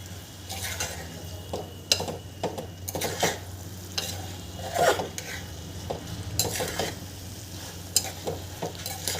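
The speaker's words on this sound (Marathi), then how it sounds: "डाळ आणि तांदूळ याला छान दोन तीन मिनटं परतून घ्यायचं आहे" Dal and rice sautéing in a pan crackle with an even sizzle, while a spoon scrapes and clinks against the metal in repeated, uneven strokes up close.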